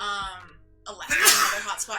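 A single person sneezes once, a sharp burst right after a short stretch of speech, close and fairly loud.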